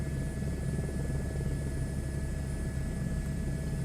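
An Airbus H125 helicopter flies in Microsoft Flight Simulator VR, giving a constant whining turbine hum over a low, even rotor drone with no talking.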